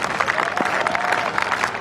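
A small crowd of about twenty at a cricket test match applauds steadily at the final delivery, with a commentator's voice over the clapping.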